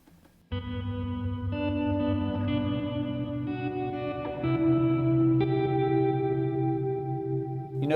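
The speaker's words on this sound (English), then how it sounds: "You notice in a really thick reverb like this, you lose some of the sharpness of that that tremolo." An electric guitar rings out sustained chords through a tremolo softened by thick reverb, the pulsing smeared into a smooth, washy sustain, loud and close with no talking.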